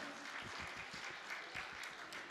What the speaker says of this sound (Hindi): तो एक बार तालियां बजाओ